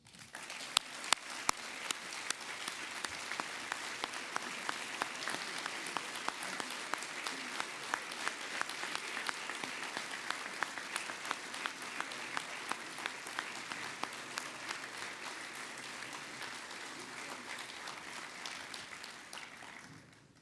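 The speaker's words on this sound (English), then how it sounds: "Please give them a warm welcome and applause." Audience applause fills a fraternity brotherhood banquet hall, a steady, dense wash of many hands clapping that holds for about twenty seconds before easing off slightly at the end, with no talk over it.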